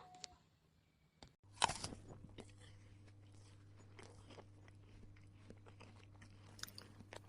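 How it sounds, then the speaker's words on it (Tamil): Someone chews a meal noisily at close range, with an abrupt crunchy bite followed by soft, steady mouth sounds and faint clicks over a low background hum. "சாப்பாடு சத்தம் இல்லாமல் சாப்பிடுங்களேன் படு படு படு படுன்னு ஒரே சத்தமாக கேட்குது"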